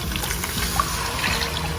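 Heavy whipping cream poured into a pot while making homemade Alfredo sauce, a steady close liquid pour with soft splashing and trickling, no talk.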